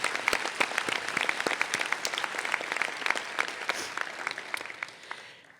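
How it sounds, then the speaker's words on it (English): Scattered, crisp applause from an audience at a medical school commencement ceremony, individual claps distinct and close, gradually tapering off toward the end. "So we're gonna clap again."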